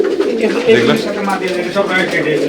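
Teddy pigeons coo in low, throaty murmurs at a pigeon farm in Durgapur, Rajshahi, several birds overlapping close by in a continuous warbling chorus.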